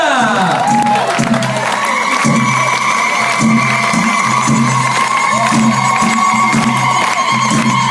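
An audience at a Club Lookéa holiday resort in Djerba claps and cheers for a sports entertainer, a dense, loud roar of applause and whoops layered with rhythmic music and sustained tones throughout.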